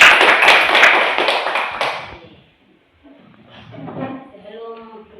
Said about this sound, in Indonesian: Kita tepuk tangan buat Tering dulu.